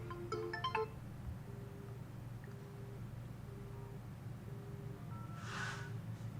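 An incoming call ringtone on an OPPO A15s phone, with SIM one receiving the call: a faint, steady tone repeats at an even pace over a low background hum, with a brief clatter near the start.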